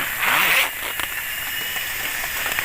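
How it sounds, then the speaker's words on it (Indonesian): A raincoat zipper is pulled open in one quick rasping stroke lasting about half a second, close up, followed by steady rain hiss in the background. "Oke, kita buka dulu mantelnya."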